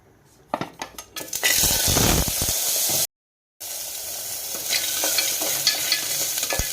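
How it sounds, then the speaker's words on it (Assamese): Goat legs fry in hot oil with a loud, steady sizzle while a metal utensil clanks and scrapes against the pan, broken by a brief silent gap before the frying continues. "এইখিনি তেলত এনেকৈ দি অকণমান ভাজি লৈছোঁ।"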